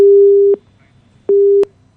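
A telephone busy signal on a call that goes unanswered: two loud, steady, even tones about half a second long, separated by silence, with a click as each one starts and stops.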